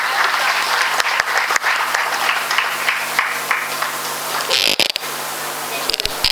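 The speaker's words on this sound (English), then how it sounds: "Please give a big round of applause" A large crowd at a college orientation program applauds steadily and loudly for several seconds, a dense wash of clapping that briefly dips near the end before resuming.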